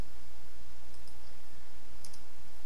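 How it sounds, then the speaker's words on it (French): Computer mouse clicks come in a few faint, sharp pairs of ticks, near and isolated over a steady low hum. "Alors je clique maintenant pour remplacer le 1 par 2"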